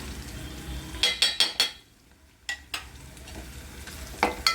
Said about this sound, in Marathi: आपला कांदा भाजून येत आहे